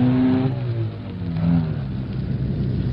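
A car engine surges and accelerates hard during a street chase along a riverside quay, with a rising, wavering drone that dips and swells again.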